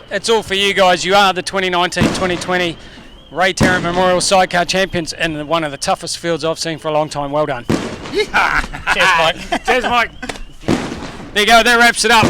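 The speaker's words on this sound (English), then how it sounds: "you can hear the fireworks going off" Fireworks go off at a 2019-2020 Ray Tarrant Memorial sidecar speedway championship, with loud broadband bangs and crackling bursts breaking through near-continuous talk from several people.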